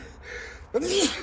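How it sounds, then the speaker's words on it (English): A man sneezes once, loud and close, right after a man working outdoors has been cutting grass, following a stretch of quiet breathy background. "Now I keep sneezing."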